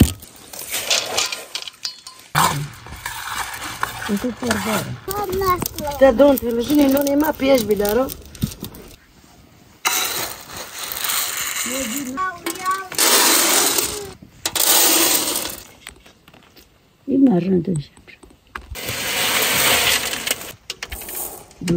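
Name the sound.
terebinth (menengiç) seeds cracking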